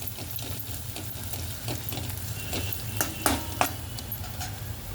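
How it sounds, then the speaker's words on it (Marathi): Turmeric and spices are sautéed in a pan for a quick green chickpea bhaji, with scraping spatula strokes and sharp clicks over a low steady sizzle and hum, close up and without speech. "मसाले, चांगले परतून घ्यायचे।"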